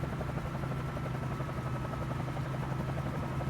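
A helicopter in a flight simulator game flies over New York with a steady rotor drone and a low thrumming pulse, held level and continuous throughout.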